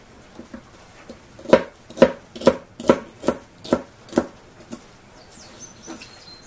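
A knife chops through cabbage on a board in about ten sharp, evenly spaced cuts, close and clear, with no talking.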